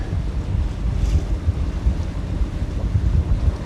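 A sailboat moves under sail through wind and waves, with steady low rumbling wind and water noise buffeting the microphone throughout, loud and continuous with no voices.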